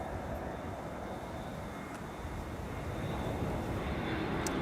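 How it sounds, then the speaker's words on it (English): A KLM Airbus A321neo at Amsterdam Schiphol gives off a faint, distant, continuous jet rumble that swells slightly toward the end and is heard alone. "Up next, KLM Flight 1502, another A321neo."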